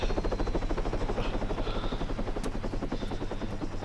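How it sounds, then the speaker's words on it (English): A helicopter in the video game Arma 3 Altis Life beats with a loud, steady rotor thump and rhythmic pulsing throughout, close and alone. "He's broke the helicopter again."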